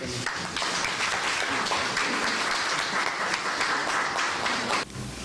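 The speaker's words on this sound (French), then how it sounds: "On peut applaudir" An assembly in Guinea gives a sustained round of applause, thick, even clapping from many hands that holds steady for about five seconds before dropping off abruptly near the end.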